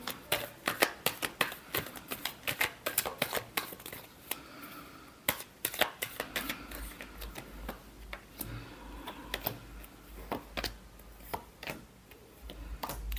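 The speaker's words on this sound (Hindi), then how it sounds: "Last shuffle." A deck of tarot cards is shuffled close up, giving a rapid, uneven run of crisp flicking and riffling snaps over about thirteen seconds, with no talking.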